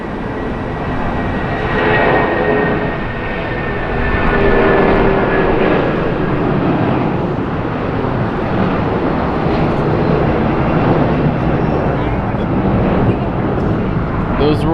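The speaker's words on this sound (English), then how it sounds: "Listen to this 757 takeoff." A Boeing 757's Rolls-Royce RB211 engines roar loudly and steadily on takeoff at LAX, a broad sustained rumble with a rising whine, continuous throughout with no pauses.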